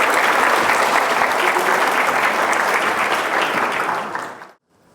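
A conference audience at a tech talk event giving loud, dense applause to welcome a speaker, steady full clapping for about four seconds before fading quickly into silence.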